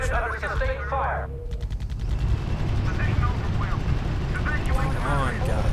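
Sustained gunfire in the strategy video game RUSE: a steady barrage of rattling shots and machine-gun bursts over a constant roar of battle, with a game voice speaking over it at the start and midway.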